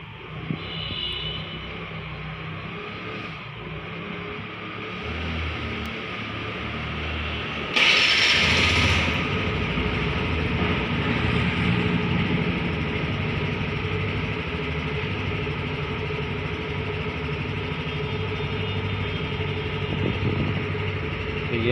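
A TVS Jupiter BS6 scooter is started and left idling, a quiet mechanical hum giving way to a sudden louder start at about eight seconds, then a steady close engine drone.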